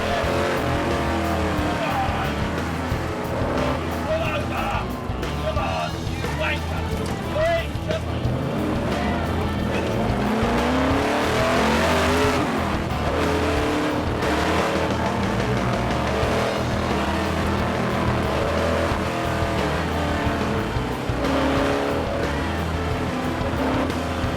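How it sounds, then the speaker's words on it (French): AC Cobra race car competing in the Tour Auto 2010 historic rally, its loud engine roaring steadily throughout with shifting revs and a dense, continuous mechanical drone. "elle est à vivre dans l'AC Cobra du vainqueur de l'édition 2009, le Britannique Shaun Lynn"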